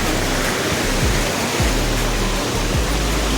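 A rushing Himalayan mountain stream pours steadily over boulders on a trek toward Kareri lake, a loud continuous broadband roar with a few low thumps underneath and no voices.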